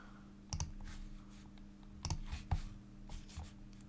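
A computer mouse gives a few sharp, faint clicks in a quiet room, spaced irregularly with two or three isolated taps and a quick double click, against a low steady hum.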